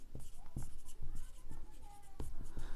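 A pen scratches across notebook paper in short repeated strokes close to the microphone during a class 7 maths lesson, while a teacher's voice talks over the writing almost throughout.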